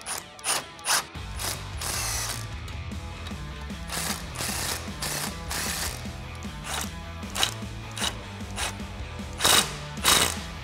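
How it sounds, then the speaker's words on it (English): A hand ratchet with a 13mm socket tightens nuts on a Rough Country lift kit for a 1997-2006 Jeep Wrangler TJ, clicking in rapid repeated strokes close by, with short pauses between bursts. "Now you just tighten those down with our 13mm socket and 13mm wrench."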